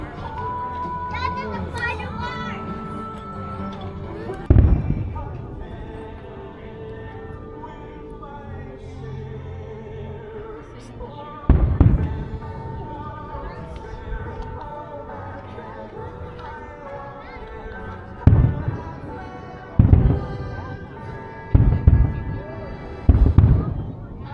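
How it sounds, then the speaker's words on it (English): Fireworks show at Disney's Fort Wilderness Resort, with several sharp booming bursts spread out over time beneath steady crowd chatter and children's voices. "Then we're gonna watch the fireworks at 10 p.m."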